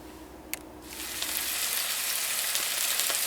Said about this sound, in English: You want to see it sizzling like this as soon as you drop them in the pan.